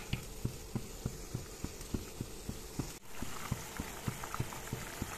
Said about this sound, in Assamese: ইয়া আঞ্জাখন উতলিব ধৰিছে